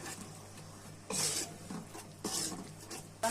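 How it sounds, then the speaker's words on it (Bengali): Masala spice paste with cumin powder is stirred and fried in a pan for a Meni fish bhuna. Three short bursts of scraping and sizzling rise over a quiet kitchen background. "এখন নেড়ে চেড়ে মশলাটা কষাইয়ে নিতেছি"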